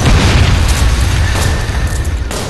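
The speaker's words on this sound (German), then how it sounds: "Sprengen Sie die Station" A station blows up in the video game Kane and Lynch 2, a loud booming explosion that rumbles and fades over a couple of seconds, with no voices.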